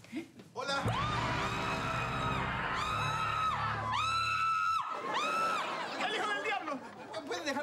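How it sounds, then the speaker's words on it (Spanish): A crowd at a Halloween party yells and shouts over one another in loud, overlapping bursts, with shrill screams rising and falling close by before the noise briefly drops and flares again. "Dejar de gritar"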